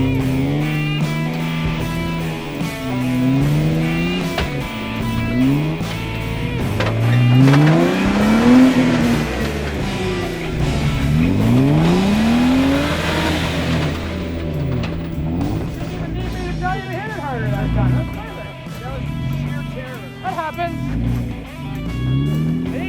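A Jeep engine revving and straining as it climbs a trail hill, with rising and falling pitch and a loud, close, rough drone throughout. People talk over it in places.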